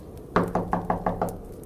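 A series of six evenly spaced knocks on the side wall of a house near the kitchen window on a snowy night, sharp and fairly close, alone with no talk.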